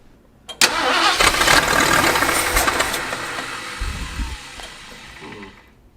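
A barn-find Mercury Cougar, left sitting about 40 years, cranks and catches, then runs rough and revs unevenly with sputters and knocks, loud and close before settling and fading.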